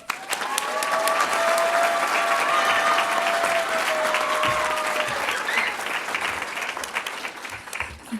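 A large audience at an awards ceremony for young leaders claps steadily and loudly for the full stretch, a dense, sustained wash of many hands that eases slightly toward the end.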